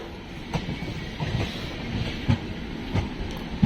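A train at Daund junction railway station near Pune around one in the morning, with rolling wheel rumble and a few rhythmic clanks of rail joints, heard fairly close.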